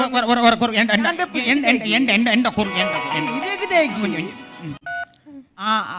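Loud voices fill most of the stretch, then a brief two-tone electronic telephone signal sounds near the end before a voice resumes.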